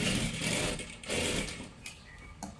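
A sewing machine runs a double line of stitching on a salwar, whirring close up in short uneven runs that speed up and slow down, with faint clicks between.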